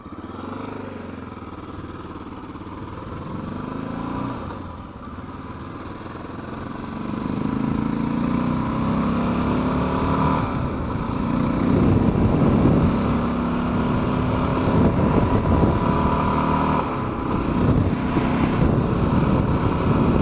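A Honda XR650L motorcycle engine runs steadily, the rumble swelling as the rider pulls away and then holding at a loud riding drone with shifts in pitch, with wind noise over it.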